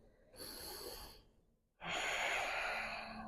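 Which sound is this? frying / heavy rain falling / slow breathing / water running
slow breathing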